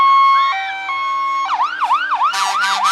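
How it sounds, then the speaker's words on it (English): A fire pumper truck siren wails loudly and close by during a Santa parade, a steady tone giving way to a rapid, rising-and-falling yelp that repeats several times as the truck passes. "Pumper number 41 going by right now. Boy, is he noisy."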